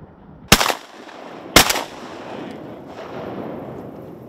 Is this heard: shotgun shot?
yes